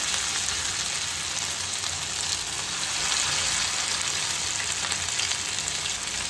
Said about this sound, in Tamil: நல்லா ஆயில் சூடாயிடுச்சு. இப்போ மீன் போட்டுக்கலாம்.